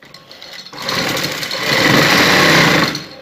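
A sewing machine stitches close seams around the drawn neckline of a turned-over kameez, whirring in one continuous run of about two and a half seconds that builds and then stops.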